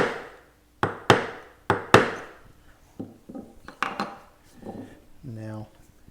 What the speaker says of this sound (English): I'm going to take my straight chisel and I'm come down and cut that chip out